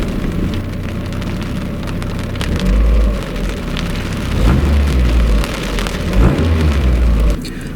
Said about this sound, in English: the irony of it pouring with rain when we're changing the coolant